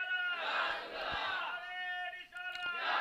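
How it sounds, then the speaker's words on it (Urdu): At a religious conference, the Gausul Wara Conference at Pachahi Sharif, a crowd chants slogans back in unison. Loud, rhythmic bursts of many voices rise and fall in waves. "جس بھائی نے لگائے تھے نعرے پھر سے لگائیں، پھر سے لگائیں"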